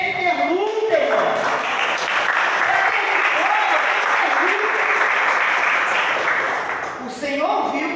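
An evangelical church congregation stands and applauds during worship, sustained loud clapping for several seconds with a voice speaking over the start and again as it dies away.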